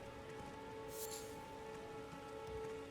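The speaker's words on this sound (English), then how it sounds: "Rain!" In the video game Elden Ring, a quiet, constant rain patter washes evenly throughout, with a brief brighter splash near the middle and a low tonal drone in the background.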